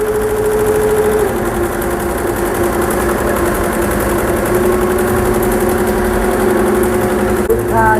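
A computerized embroidery machine stitches blouse designs with a continuous, loud mechanical whir and rapid rhythmic needle chatter, steady throughout and close by.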